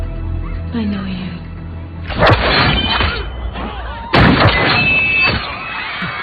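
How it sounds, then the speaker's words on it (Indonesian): Gunshots in an action film: two loud, sharp blasts a couple of seconds apart, each ringing briefly over a film soundtrack with background voices and score. "Mama meluncurkan satu tembakan kepada pria yang sudah dipastikan itu adalah suruhan Hector"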